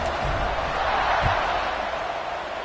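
Stadium crowd at a football game keeps up a steady, broad buzz after a touchdown, loud and continuous, with a couple of low thumps underneath.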